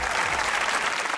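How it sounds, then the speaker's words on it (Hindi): Studio audience applause on a Pakistani comedy talk show, a dense, steady burst of clapping filling the room at close range, brief and continuous throughout. "तालियां।"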